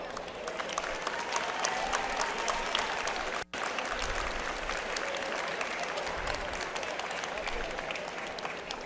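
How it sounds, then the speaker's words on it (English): An arena crowd at a FIRST Robotics competition in Rochester, NY breaks into loud, sustained applause, a dense continuous roar of clapping with cheers mixed in, broken by one momentary dropout. "So I'd like everyone here who's been to a first event before to give a round of applause."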